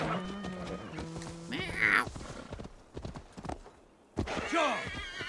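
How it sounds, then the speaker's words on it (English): A horse in Assassin's Creed Valhalla, ridden through green fields, gives steady clip-clopping hoofbeats close by, mixed with whinny-like calls and game effects, while someone speaks over parts of it. "Horsey."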